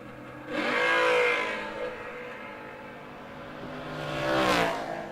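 A Chevy 2 drag racing car roars as it accelerates down the strip, swelling loud and then fading, followed by a second surge of engine noise near the end.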